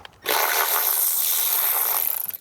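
A socket wrench with a deep 10 mm socket works bolts loose on a Dodge Journey engine, giving a short burst of bright, continuous metallic whirring and rasping close up, about two seconds long, then tapering off.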